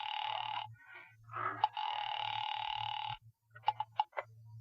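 An old-fashioned telephone bell rings in an old-time radio drama, with two long rings and then a burst of short clipped rings, clear and close over a low hum.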